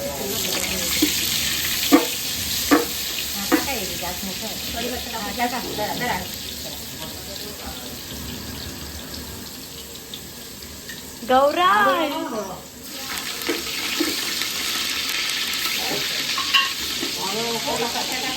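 Garlic fries in hot oil with a steady sizzle while a spoon stirs and scrapes the pan at intervals; water runs briefly midway, and someone speaks now and then over the cooking.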